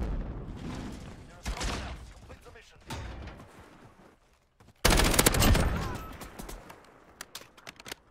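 Gunfire in a Call of Duty multiplayer match, a few bursts of shots with a dense, loud volley near the middle, mixed with game noise and a player talking.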